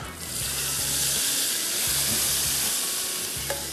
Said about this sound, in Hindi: अब ये आ गया तड़का दाल के ऊपर